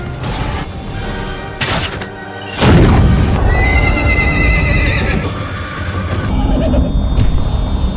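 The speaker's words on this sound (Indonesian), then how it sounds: "mereka berhenti karena kuda mereka ketakutan saat melihat kobaran api" Frightened horses in a battle let out loud, repeated neighs and whinnies over thumping hooves and chaotic clatter, several calls overlapping in a dense, noisy scene.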